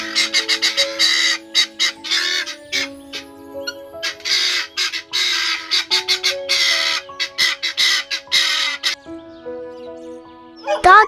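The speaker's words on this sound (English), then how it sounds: "Guinea fowl." Guinea fowl call over and over in a rapid, harsh, rhythmic series of loud, close, clipped cries, with a brief pause before a final burst.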